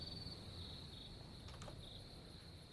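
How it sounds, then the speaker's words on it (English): Crickets chirp in a video game ambient soundscape, a faint steady high trill running throughout over a low background hiss, with no talk. "There's like cricket noises. I think that's part of the soundscape stuff."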